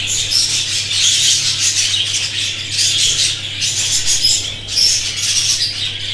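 Shrill, squeaky calls of pigeon chicks come in repeated bursts, with fluttering and a low steady hum underneath.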